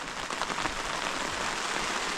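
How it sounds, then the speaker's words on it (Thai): Steady rain falls during a storm in a rural outdoor camp, a dense, even patter close by that fills the whole short stretch with no voices. "วันนี้ฝนตกแต่เช้าๆนี่นะ"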